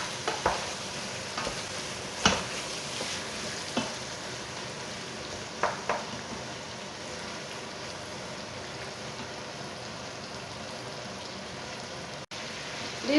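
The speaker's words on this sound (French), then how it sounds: "Je vais brasser un peu pour que tous les oignons se colorent avec les épices" Onions frying with spices in a pan for a rabbit tajine, a steady soft sizzle running throughout, with occasional scrapes and taps as the mix is stirred.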